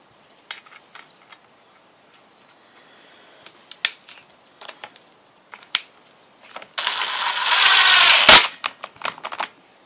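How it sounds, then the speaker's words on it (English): A tool works on the bolts of a Husqvarna blade brake during repair, giving scattered sharp clicks and taps, close and fairly quiet, then a loud burst of rapid ratcheting or whirring for about two seconds, followed by a few more clicks. "Let's put some bolts on."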